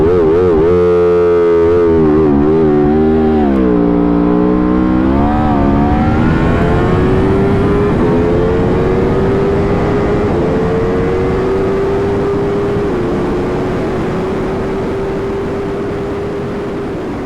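A TVS superbike engine revs hard during launch control, wavering up and down before settling into a loud, sustained, high-pitched drone right beside the listener, with no talking.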